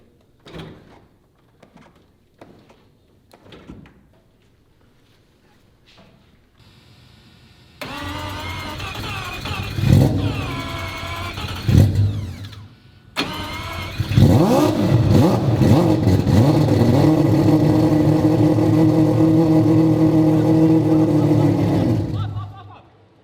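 A car fitted with a four-rotor rotary engine starts up and accelerates hard, loud buzzing engine tone sustained for several seconds after a brief break, preceded by quiet handling noises and door sounds.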